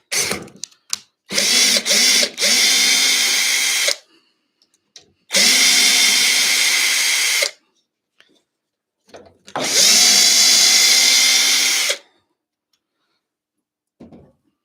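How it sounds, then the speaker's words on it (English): A power drill whirs in three sustained bursts of a few seconds each, loud and close, with short clicks and pauses between runs. "it's going to be a bit of noise today as well, drills and stuff going"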